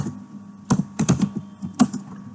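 Keys clack on a computer keyboard as a command is typed, a close, quiet cluster of quick taps with brief pauses between bursts.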